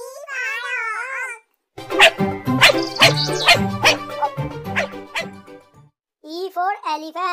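A dog barks and yips in short bursts at the start and end, with a child singing over musical accompaniment in between.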